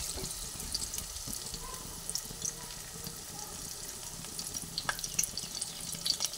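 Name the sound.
stuffed cabbage pieces frying in oil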